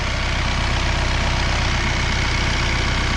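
A steady, low engine idle rumbles on without pause, a heavy diesel thrum holding even and close throughout, from an RK55 tractor.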